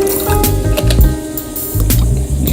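Orange juice poured into a champagne flute for a 50-50 drink, a loud, close, continuous wet gurgle and splash with a few squishy pulses as the glass fills.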